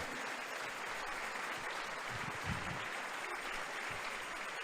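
A church congregation claps hands together in sustained, dense applause that holds steady throughout, with no voices rising above it.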